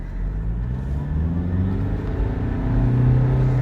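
Engine of a 2015 Toyota Innova on the move, a steady low drone that climbs gradually in pitch as revs build. It sounds close and fairly loud inside the cabin, with no talking.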